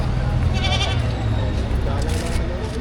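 A goat bleats at a livestock market selling cattle, goats and carabao in Padre Garcia, Batangas, its wavering calls rising over a loud, busy crowd with people talking throughout.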